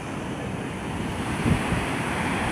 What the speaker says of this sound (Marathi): हे बघा काय लाटा येतात